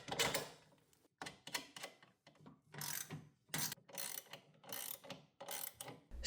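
A ratchet clicks as nuts are tightened onto the damper bolts of a Miele washing machine, short close bursts of rapid pawl clicks repeating in quick strokes with small gaps, fairly quiet, with no voices.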